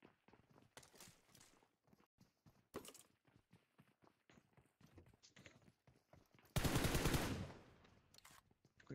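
Gunfire in a PUBG Mobile gunfight, with scattered quick footstep-like taps and sharp shots, then a loud, dense burst of automatic fire lasting about a second near the end before trailing off.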